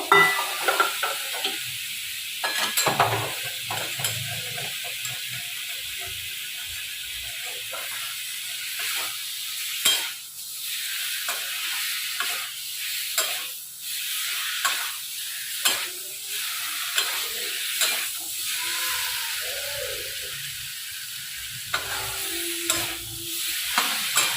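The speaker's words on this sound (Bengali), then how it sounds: "এবার যে ভাজা পটল এর মধ্যে একটু দিয়ে নেবো" Fried pointed gourd being stirred into a cooked spice paste in a pan, giving a hissing sizzle with repeated spatula scrapes and stirring bursts, close and steady with no talking.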